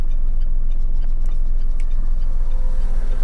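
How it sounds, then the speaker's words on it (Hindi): A car rolls slowly backwards down a flyover incline with the clutch pressed and the brake easing off, giving a steady low rumble of engine and road noise up close. "देखिए गाड़ी पीछे की तरफ जा रही है"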